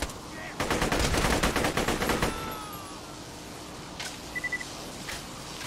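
Gunfire in Borderlands 2 VR: a rapid automatic burst of about a dozen close, loud shots, then a couple of fainter isolated pops and small electronic chirps.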